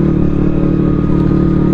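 A Honda CBR motorcycle engine running while being ridden, a loud, steady, close droning hum with a constant pitch throughout and a faint rattle, with no voices.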